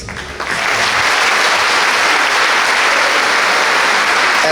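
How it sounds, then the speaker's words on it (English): An audience at an athletic awards and hall of fame ceremony at Baldwinsville Central School bursts into loud, sustained applause that fills the hall after a brief quieter moment. "I invite all of you to give Christine a big round of applause"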